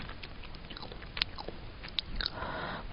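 Crisp bites and crunchy chewing on sheets of edible colored paper with fruit flavors, heard up close as a few sharp snaps followed by softer mastication with no talking.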